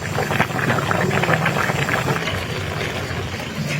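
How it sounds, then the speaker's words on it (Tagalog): Steady rolling bubbling of pasta water at a boil, a dense continuous churn with a low hum underneath, close by and fairly loud throughout. "Ayan po, kumukulo siya."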